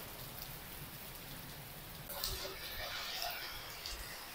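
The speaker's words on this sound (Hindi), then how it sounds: "बारिश बहुत सख्त, सारा पानी अंदर आ रहा है इधर से।" Heavy rain pours down outside a house in Mirpur and leaks into a room, a dense steady hiss of falling water that grows slightly louder with sharper splashes partway through.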